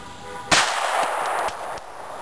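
A 9mm pistol fired with a Glaser Safety Slug at a watermelon outdoors: one sharp loud crack, then a couple of fainter follow-up thuds and clicks over steady background noise.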